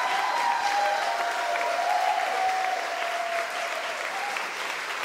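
An audience at a final celebration event claps steadily and densely for about five seconds, with a faint crowd murmur underneath, and the applause stays evenly loud from start to finish.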